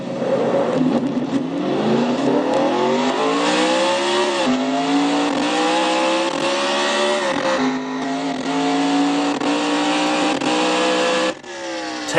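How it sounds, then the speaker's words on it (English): A race car engine in a stock car series race revs up steadily through rising gears, loud and close as if on board, with a brief drop and fresh climb near the end. "He gets the car back in gear and gets her going again."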